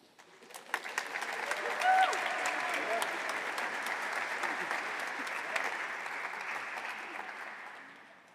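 Audience applauding steadily at a physical therapy white coat ceremony, a sustained round of clapping from a crowd that swells in and holds before tapering off.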